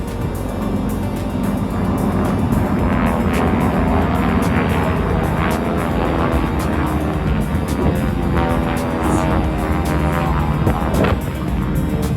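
A T6 racing aircraft in the T6 class of an air race, kept essentially stock, drones past the grandstand with a loud, steady propeller-engine roar that holds at full strength for about twelve seconds, with no talk over it.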